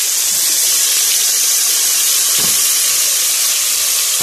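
Tomatoes tipped into hot oil with fried kofta give a loud, steady, close sizzle that hisses without a break throughout.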